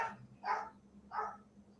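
An old dog barking indoors, two separate hoarse barks spaced apart, moderately loud over a low steady hum.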